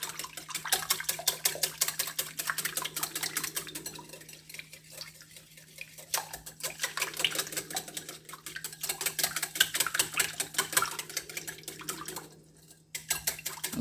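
Pancake batter being mixed with milk in a bowl, a steady clinking, scraping stir that runs almost without break for the whole stretch before dipping briefly near the end.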